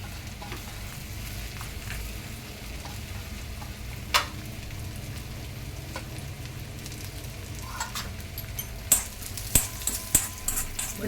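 Raisins and almonds frying together in a pan, a steady low sizzle with a few sharper crackles and pops near the end.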